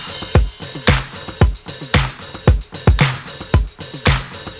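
Disco drum pattern in a pop production, with kick, snare, tambourine and hand claps playing together in a steady four-on-the-floor groove, punchy and loud with no voices.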